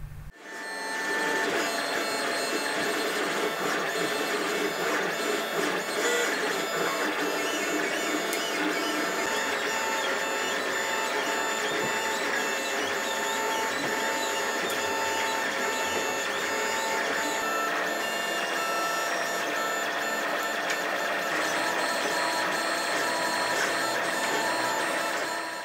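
A 3D printer prints ankle lock parts for an Iron Man Hulkbuster cosplay suit, its stepper motors whining and chirping in continuous shifting tones, loud and close, with no talk over it.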